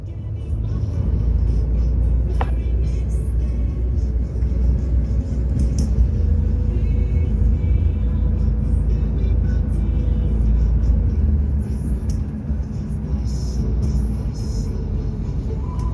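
A car driving along, with a steady loud engine rumble and road noise heard from inside the vehicle throughout, a slight swell midway and no talking.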